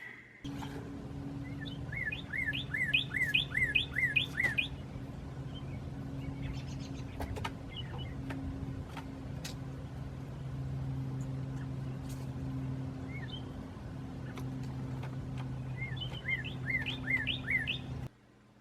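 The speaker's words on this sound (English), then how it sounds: "recording the sound of like birds and other stuff, the sound of nature going on" Several birds chirp in short repeated bursts outdoors, recorded by a trail camera, with a low steady engine-like hum underneath throughout.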